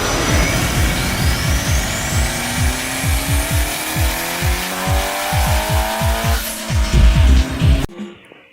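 2ZZ turbo-powered time attack race car driven hard on track, tires squealing in repeated bursts over a loud revving engine that rises in pitch, then cuts off abruptly.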